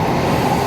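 A train running through Tokyo, a steady close rumble with a rolling low roar that holds evenly across the short moment, with no voices.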